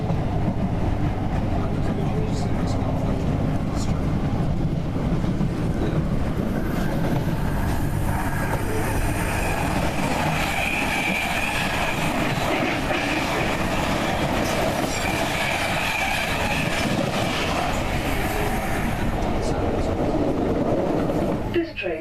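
A train rumbles along the rails with a steady low roar and rhythmic clatter, a faint metallic squeal rising midway, heard from inside a carriage.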